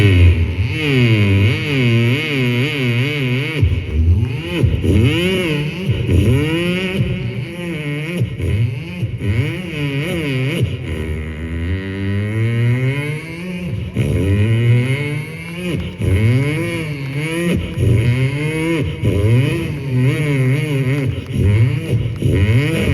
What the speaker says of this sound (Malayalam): ഈ മരണക്കിണറിൽ ബൈക്ക് പോകുമ്പോൾ